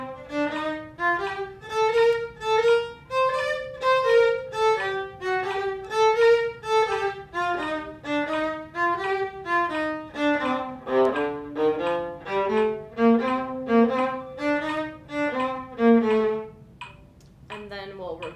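A viola plays a dotted sixteenth-note rhythm at a reduced tempo with a metronome, bowed notes in a steady long-short pattern moving up and down, close and clear with no talking.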